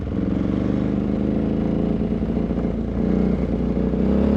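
KTM 950 Adventure Dakar rally motorcycle from 2003 accelerating, a loud continuous engine drone with steady low rumble and rising mechanical roar, heard close from the rider's position.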